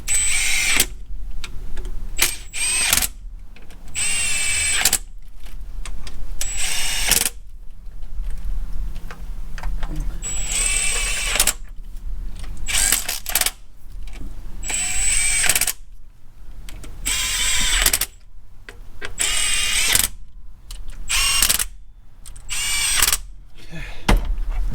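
An impact wrench drives bolts on a 2007 Silverado during a lifter replacement, firing in repeated loud, rapid hammering bursts separated by short pauses, close up, with no talk.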